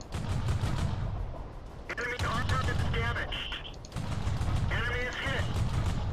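Rapid bursts of tank machine-gun fire from a Vickers Medium Mk I in World of Tanks, two clusters of quick rattling shots over continuous rumbling engine noise, with someone talking throughout.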